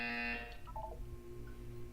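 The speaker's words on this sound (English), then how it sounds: "You will hear a buzzer." A harsh electronic buzzer in the video game Portal 2, one loud burst at the start followed by fainter tonal electronic sounds and a low hum.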